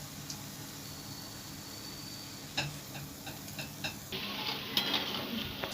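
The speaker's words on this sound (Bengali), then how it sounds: "হালকা আঁচে ভেজে নিতে হবে" Dahi vada lentil fritters fry gently in oil over low heat, giving a quiet, even sizzle with a few soft ticks and clinks that grow a little busier toward the end.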